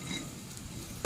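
Raw banana kofta balls frying in a pan of oil, a soft steady sizzle heard close, ending with a brief louder clink.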